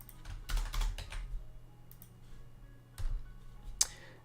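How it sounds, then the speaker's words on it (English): A mechanical keyboard with blue switches is typed on in brief bursts, its crisp clicky keystrokes quiet and close, separated by pauses, with a single sharper clack near the end and no speech. "I also have a keyboard with blue switches"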